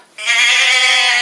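A voice imitates sheep bleating with one loud, close, sustained nasal "baa" that wavers slightly in pitch, delivered alone in a storytelling reading.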